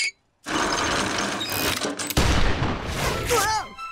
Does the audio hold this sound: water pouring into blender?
no